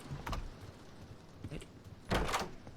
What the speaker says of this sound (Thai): น่าจะมีคนโดนนะครับประตูมันเลยเปิด